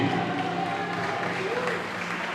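Spectators at an amateur football cup ceremony clap together as the trophy is presented, a steady wash of outdoor applause with crowd murmur and a voice running over it throughout.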